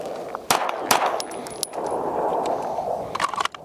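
Handgun shots ring off a steel target at an outdoor range, a handful of sharp cracks with metallic pings spread unevenly, ending in a quicker cluster.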